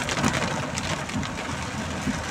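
Steady rain falls on a car during a storm in Lampang, Thailand, heard from inside as a dense, continuous hiss with faint low thumps and no talking.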